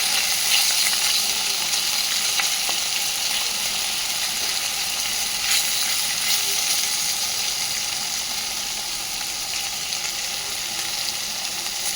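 Hot oil sizzling and crackling in a kadai as food is stirred in, a dense steady hiss with occasional sharper pops, close and continuous with no talk.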